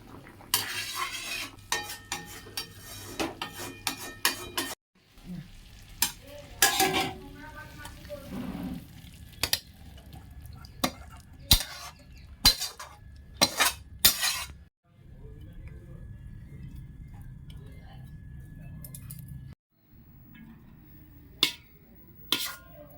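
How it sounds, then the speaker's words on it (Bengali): A spoon stirs soybean curry in a frying pan, with repeated scraping clinks of utensil against metal over a low sizzle, in bursts separated by short pauses. "মানে নেড়ে দিচ্ছি যাকে বলে আর কি তলা উপর করে দিচ্ছি"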